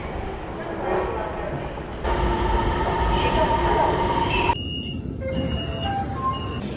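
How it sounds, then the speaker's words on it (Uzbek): A metro train runs through an underground line in China with a loud, steady rumble. Partway through it drops to a quieter hum as short electronic beeps sound. "Metro."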